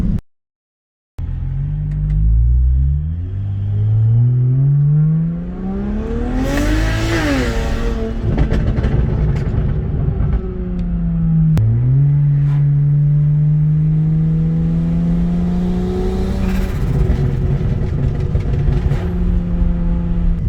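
A petrol car engine cranks to life after a short silence, then revs up and settles into a loud, close idle rumble, with a second sharp rev rising and falling midway through.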